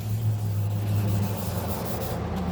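Sandpaper rubbing back and forth across an oxidized plastic headlight lens during restoration, a steady close-up scratchy hiss over a low hum, with no voices.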